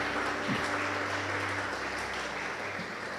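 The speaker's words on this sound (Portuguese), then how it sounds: "dê um aplauso ao Senhor" Church congregation applauding after a sermon, a steady dense wash of clapping that holds evenly throughout, with a low organ or keyboard tone briefly underneath.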